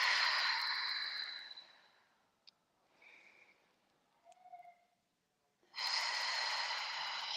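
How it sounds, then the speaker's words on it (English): Two long, loud breathing sounds, an inhale at the start and another near the end, frame a quiet gap with faint small noises, as deep breaths are taken during a tai chi neck-stretch exercise. "take a nice deep breath"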